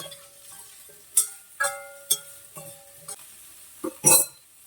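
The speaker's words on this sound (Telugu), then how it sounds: "సాల్ట్ వేసుకొని ఒక 2 to 3 మినిట్స్ ఫ్రై చేసుకుందాం." Cauliflower frying with salt in a pan, with a utensil stirring and tapping against the metal in irregular clinks over a faint sizzle, close and moderately loud.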